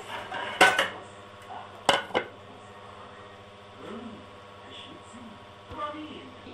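A knife cuts basbousa, a semolina cake, in a metal baking pan, giving two sharp clinks of blade on pan with a few softer scrapes and taps, and quiet talk in between.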